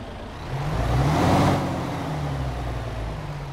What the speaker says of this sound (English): Let's go ahead and get this truck started up and get on the road.